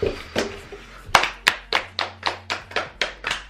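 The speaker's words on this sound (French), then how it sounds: "Ils ont le mérite d'être applaudis" Audience at a group performance claps in a burst of roughly ten sharp, rhythmic hand claps, close and fairly loud, with a faint low hum underneath.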